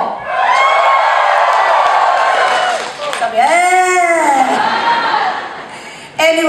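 A live concert audience cheers and shouts loudly in a sustained roar, with rising whoops and yells near the middle, then a fresh burst of shouting at the end.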